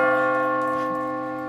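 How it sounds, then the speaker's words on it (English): A single heavy bell tolls once, its deep ringing tone holding and slowly fading away, with no voices. "That's the bell tolling."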